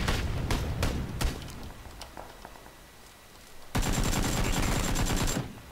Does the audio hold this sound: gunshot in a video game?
yes